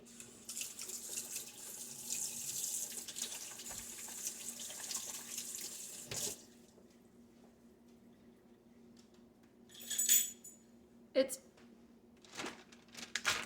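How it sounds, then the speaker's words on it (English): Hands are washed under a running kitchen faucet, a soft steady stream of water splashing into a sink for several seconds, then stopping, followed by a few faint drips and handling noises, quiet and without talking. "I'm gonna give my hands a quick wash."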